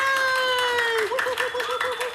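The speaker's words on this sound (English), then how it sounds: "So come on, everyone in class, give her a big round of applause." A school class applauds and cheers for a pupil, dense clapping under a loud sustained whoop and cheering voices that carry through the short burst.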